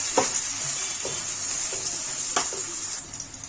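Onions and green chillies frying in a kadai, a steady bright sizzle with occasional stirring scrapes and taps, close and alone without talk.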